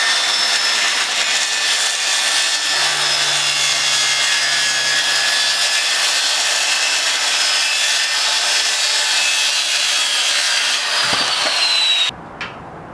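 A handsaw cuts a foot off the bottom of enclosure panels for a 3D printer enclosure build, giving steady, continuous rasping strokes up close that run without pause for about twelve seconds, with no talk.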